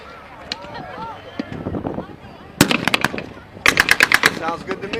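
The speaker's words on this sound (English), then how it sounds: "Alphonse, that is just deafening. That's the loudest one we have here today. And that's a 3-inch?" WWII reenactment battle with bursts of rapid automatic gunfire crackling at a distance and then sharper, louder volleys nearby, under wind noise and scattered voices.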